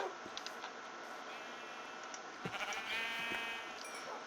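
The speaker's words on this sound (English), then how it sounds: "Let me murder a couple sheep real quick." Sheep bleating in the Minecraft video game, several short bleats scattered through the clip with small hit sounds, fairly quiet against a steady background, no talking.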